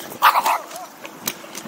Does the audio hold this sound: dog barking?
yes